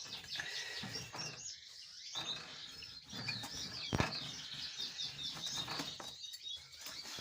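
British finches and canaries in cages chirp and flutter nearby, with short wing flaps and a sharp peck or knock amid a steady background of bird calls, no talking.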